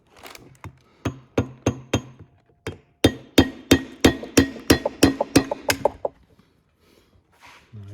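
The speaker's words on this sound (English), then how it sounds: "I come in here with a punch or screwdriver and I tap it." Sharp metallic taps from a punch or screwdriver striking a snap ring on a 2009-2020 Honda Fit wheel bearing assembly, heard as a close, steady series of about twenty strikes with a short pause partway through.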